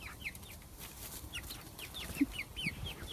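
Several chickens cluck softly and repeatedly nearby, short rising calls overlapping in an irregular rhythm against a quiet outdoor background.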